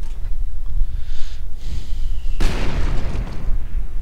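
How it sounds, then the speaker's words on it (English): German mortar shells explode in a Company of Heroes 2 battle: a low rumble of distant impacts, then a sudden loud, close blast about midway that leaves a crackling, gritty tail. "Actually, that's an awful lot of mortars from the Germans."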